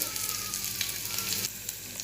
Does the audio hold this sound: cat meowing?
no